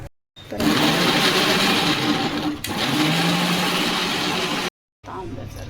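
A mixer grinder whirs loudly in two bursts, with a brief pause between them and a short gap before it restarts near the end.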